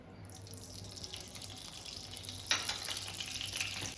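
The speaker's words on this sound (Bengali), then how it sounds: "একটু গাওয়া ঘিও দেবো এর মধ্যে।" Ghee dropped into hot white oil in a pan, a soft watery sizzle that grows louder and brighter about halfway through, then keeps crackling quietly. No voices.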